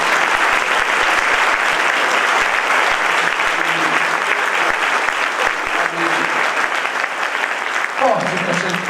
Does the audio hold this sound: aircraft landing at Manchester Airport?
no